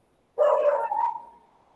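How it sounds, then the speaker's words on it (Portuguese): A neighbour's dog gives a single loud, fairly close bark that trails into a short whine, with no talk over it. "tem um cachorro latindo que eu vou fechar a janela"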